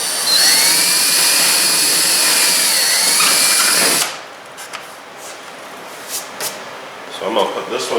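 A power drill whines loudly and steadily for about four seconds while drilling during mud guard and fender installation on a Honda Talon X, then stops, leaving quiet room tone with a few faint knocks and clicks.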